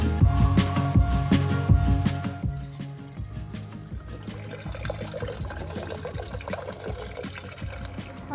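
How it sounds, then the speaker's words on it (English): Water runs from a village tap in Oman as bottles are filled, a steady splashing, gurgling pour. It is close and loud at first, then settles into a softer trickle with faint talk. "Popping into the village to fill up our water bottles again, finally."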